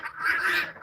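A single short, nasal duck quack, close and fairly loud, lasting under a second at an evening poultry yard.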